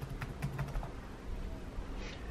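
Keys clatter on a Dell computer keyboard in a few quick, light taps early on, then a quiet room hum continues.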